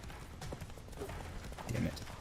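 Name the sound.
Roach the horse's hooves galloping, from video game The Witcher 3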